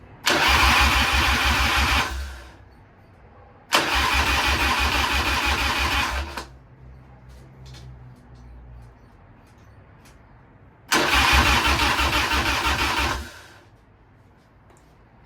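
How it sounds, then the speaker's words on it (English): A 1993 Harley-Davidson Softail motorcycle running on old gas with the choke out, cranking and catching in three separate loud bursts of about two to three seconds each, with quieter gaps between attempts. "We got engine run."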